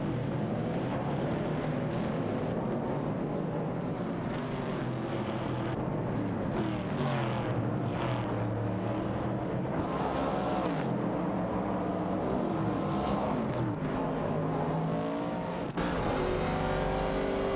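A 1970 Chevrolet Camaro and a 1970 AMC Javelin race in a video game, their engines roaring loudly and continuously as the revs climb, drop and shift.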